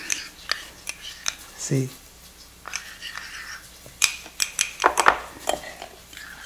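Spoon scraping and clinking against a cooking pot as sugar is stirred in for a stew, irregular metallic taps and scrapes up close, with a brief spoken word partway through.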